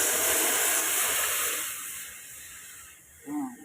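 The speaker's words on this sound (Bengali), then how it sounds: "একটু রসুন, পেঁয়াজ, কাঁচা লঙ্কা, একটু শুকনো লঙ্কা, সামান্য একটু তেল দিয়ে ফোড়ন দিয়ে দিলাম পাতলা মুসুরির ডাল" Garlic, onion, green chillies and dried red chillies sizzle loudly in a little hot oil as a tempering for thin masoor lentil dal; the hiss settles and fades, with a brief voice near the end.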